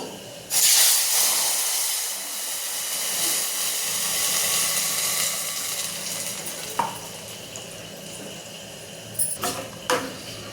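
Soup is poured into a hot cumin and mustard seed tempering with a loud burst of sizzling and hissing steam, then settles into steady frying crackle, with a few clanks of stirring near the end.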